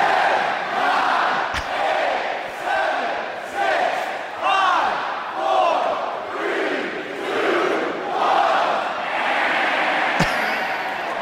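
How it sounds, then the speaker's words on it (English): A wrestling crowd at a WWE Royal Rumble event chants in loud, rhythmic waves, voices rising and falling in regular pulses like a counted countdown, with a couple of sharp slams or bumps cutting through the roar. "He's got a video of the crowd doing these countdowns."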